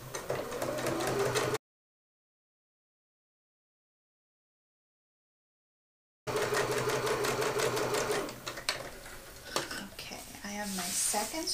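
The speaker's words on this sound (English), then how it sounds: "then fold the folded edges over, and then you're just going to top stitch down both long edges." Sewing machine top stitching along the long edges of a tote bag strap, a dense rapid whir running for a second or two, stopping in silence, then resuming for several seconds with faint handling noise.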